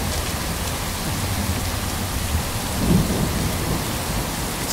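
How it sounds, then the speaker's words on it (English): Heavy rain pours steadily in a dense, unbroken wash, with a low rumble of thunder swelling briefly partway through; no voices are heard. "It's raining heavily."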